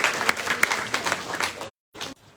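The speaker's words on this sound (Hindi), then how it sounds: "शुभम के लिए ताली बजाया।" A student audience at KPGU in Vadodara breaks into brief, lively clapping that cuts off abruptly, followed by a faint tail of scattered claps.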